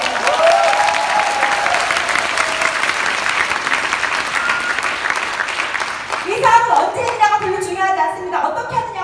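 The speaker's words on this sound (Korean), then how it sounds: "박수 한번 치세요" A crowd claps steadily at a business seminar in a hotel convention hall, loud and sustained, before the applause fades and a voice begins speaking over the last scattered claps.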